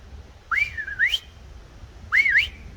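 Two sharp, rising-and-falling whistles calling a dog, each a quick two-note call, spaced about a second and a half apart with quiet between.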